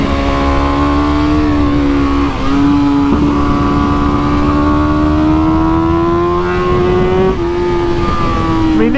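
A factory BMW M 1000 RR superbike ridden hard on track, its engine a loud, close, sustained high-pitched howl with rising and falling revs and brief shifts, no voices.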